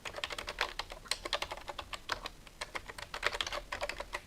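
Rapid typing on a computer keyboard while entering a new lead in Bitrix24 CRM software, a dense run of crisp key clicks at a steady close-up pace.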